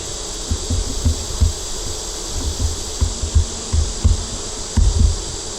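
Honey bees buzz around a backyard hive and over the grass in front of it, a steady hum with soft buzzing passes and light bumps, no talking.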